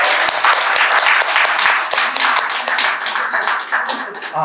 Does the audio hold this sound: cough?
no